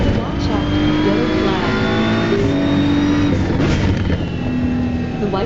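BMW M4 GT3 race car engine lapping Brands Hatch, a loud steady in-car drone with rising and falling revs and gear changes, under a voice talking.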